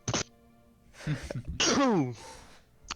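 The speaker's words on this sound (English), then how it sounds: "I'm gonna sneeze." A single sharp sneeze close by, preceded by a short catching breath and followed by a brief exhale.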